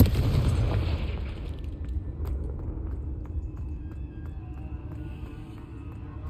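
A Confringo spell explosion in the video game Hogwarts Legacy opens with a loud, broadband boom, then settles into a long, low rumbling tail with scattered faint crackles.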